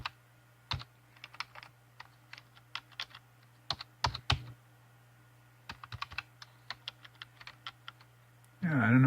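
Someone types on a computer keyboard in a basement, with irregular bursts of crisp key clicks and short pauses between them over a faint steady hum, and a louder rustling noise near the end.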